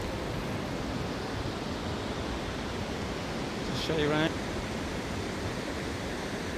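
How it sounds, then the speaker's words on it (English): The Falls of Killin in Scotland, a broad, steady roar of rushing water close by with no pauses, and a brief spoken remark partway through. "These are the falls of Killin, which apparently are quite famous."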